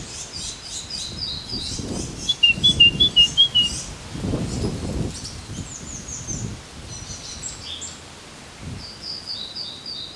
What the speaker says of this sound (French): Il y a un merle au-dessus.